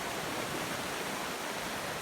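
Floodwater rushing into rice fields after heavy rain, a loud continuous roaring wash of flowing water with no break and no voices.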